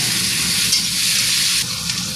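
Onion and tomato dropped together into hot oil with tempered whole spices, a loud, close sizzle and crackle with stirring scrapes running continuously, no talking.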